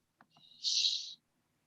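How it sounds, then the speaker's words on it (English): A brief, sharp bird call, a single high whistled note after a couple of faint clicks, heard alone and fairly quiet in an otherwise silent background. "I hear a bird's sound."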